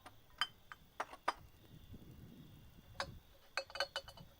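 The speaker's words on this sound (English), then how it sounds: "If this sounds like clinking glass, you're right." Glass bottles from a collection clink together in sparse, bright, separate taps and small clusters, close by and fairly quiet, with soft handling noise between them.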